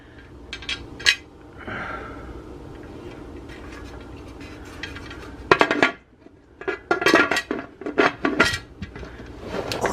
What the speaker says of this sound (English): put your lid on